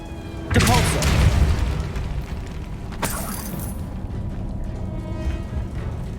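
Depulso spell cast in the video game Hogwarts Legacy: a sudden loud magical blast and booming rumble, followed by a second sharp burst a few seconds later over sustained game ambience.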